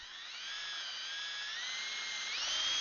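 A drill whines at high pitch while boring a hole, close and steady, its tone rising slightly near the end.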